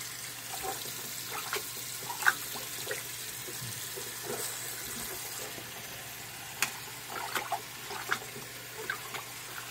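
A tap runs water into a container to submerge a gas mask for cleaning, a steady faint splashing and trickling with occasional small clinks throughout.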